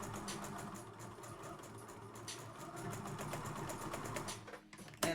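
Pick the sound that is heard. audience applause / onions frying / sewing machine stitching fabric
sewing machine stitching fabric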